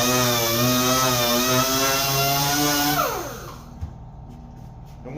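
A power sander works over a cabinet door with a loud, steady whine for about three seconds, then spins down and falls quiet, leaving faint room noise and a small knock.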